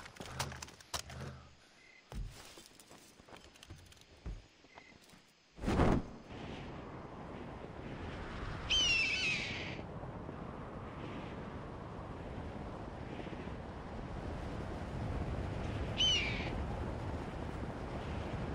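An eagle in Far Cry 3 gives two brief, high screeching calls a few seconds apart behind the player, over steady wind and ambient noise.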